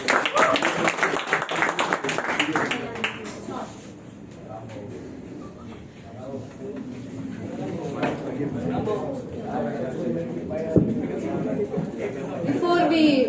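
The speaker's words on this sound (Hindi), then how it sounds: "तालियां।" Applause at an open-mic night, strongest at the start and easing off, with loud crowd chatter and voices running through the rest.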